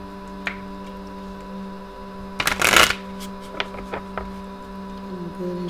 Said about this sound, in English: Let me go ahead and just keep shuffling.